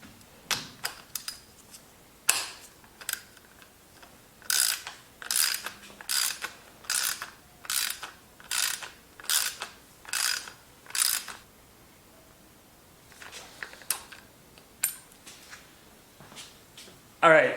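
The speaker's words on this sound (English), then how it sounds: "you're going to use your cassette tool to tighten that down" Cassette tool ratcheting to tighten the top cap on a RockShox suspension fork, a series of sharp clicking ratchet bursts in an irregular rhythm, close and crisp against quiet.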